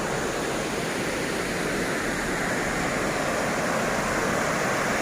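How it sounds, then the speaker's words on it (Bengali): Camly waterfall in Dalat, Vietnam, pours in a dense, unbroken roar of rushing water, loud and close, with no voices over it. "এই জলটা এদিক দিয়ে চলে যাচ্ছে।"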